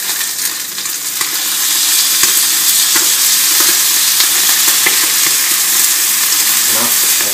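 Roast beef sizzling in a hot pan, a loud, dense hiss and crackle running continuously with occasional sharper spits, and no speech.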